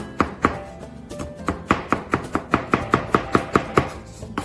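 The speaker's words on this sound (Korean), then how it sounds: "얇게 채 썰은 거를 이렇게 얇게 펼치신 다음에 다지는 거 어, 다지면서 썰어주세요" A knife minces thinly julienned onion on a cutting board with about twenty crisp, steady chops in quick rhythm, close and clear.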